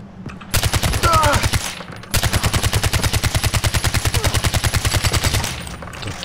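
Rapid automatic gunfire from the video game Far Cry 4 in long sustained bursts with a short pause, loud and close, a voice briefly calling out over the shooting.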